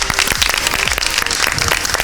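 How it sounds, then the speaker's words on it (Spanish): A studio audience applauding on a Spanish-language science TV show, a dense, steady wash of many hands clapping close and loud for two seconds, with no voices standing out. "le damos un aplauso"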